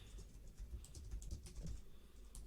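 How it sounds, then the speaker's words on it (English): Keys click in quick, uneven bursts as someone types on a computer keyboard nearby, soft and close with short pauses between strokes. "So that's just what I'm typing here"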